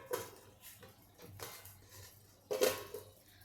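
A cooking pot is lifted and set down on a kitchen counter, giving a few soft metallic clinks and knocks with one sharper clank near the end, quiet and close.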